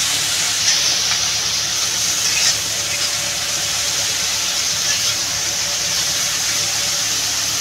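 Spice paste sizzling and frying steadily in a pan for a Bengali tilapia curry with onion and tomato, a continuous close hiss with no talk.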